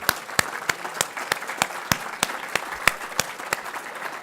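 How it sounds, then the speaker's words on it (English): Applause from a small audience at a packaging industry debate in London, a sparse run of distinct, evenly spaced claps over about four seconds. "let's have a big round of applause for Lord Deben"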